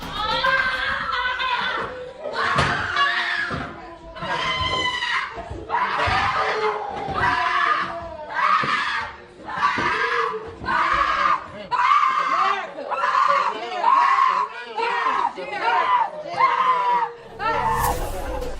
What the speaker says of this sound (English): the screams of their family members pierced the courtroom